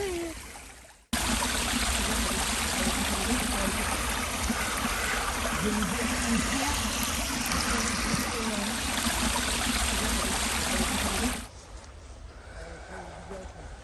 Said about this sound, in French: C'est un ruisseau ça.